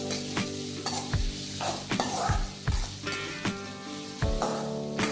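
Onions sizzle in a hot pan while a spatula stirs with repeated metallic scrapes and clanks at an uneven rhythm, close by.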